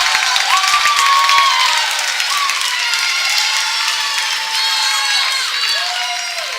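A high school volleyball crowd at a McBain versus Calumet quarterfinal cheers and applauds loudly, a continuous roar with shouted voices rising and falling and a few sharp claps at the start.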